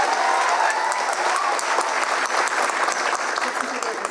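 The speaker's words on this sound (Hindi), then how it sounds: "एक बार जसवंत सिंह जी के लिए जोरदार तालियां बजाइए।" Loud applause from the audience at a political speech event in Delhi, a steady, thick wall of clapping close by, with faint voices mixed in beneath.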